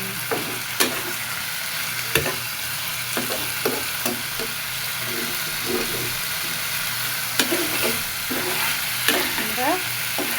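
Boiled figs and potatoes are sautéed in a pan, giving a constant close sizzle broken by repeated scraping strokes of a spatula stirring the pieces, with no talking.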